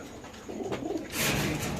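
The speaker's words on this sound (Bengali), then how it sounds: "এখানে আছে এক পেয়ার আফসান গ্রিজাল কবুতর আমরা দেখাচ্ছি" Low cooing from a pair of Afsan grizzle pigeons kept in a farm cage, a soft rolling murmur that gives way to a louder burst of broadband noise near the end.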